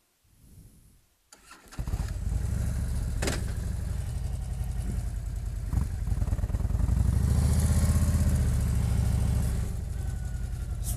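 A motorcycle engine cranks briefly, fires up and settles into a loud, close, steady idle with a throbbing low rumble and occasional revs.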